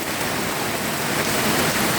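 Heavy rain from Storm Noru pouring down on a Thai garden, a loud, dense, unbroken hiss of rainfall close by with no voices.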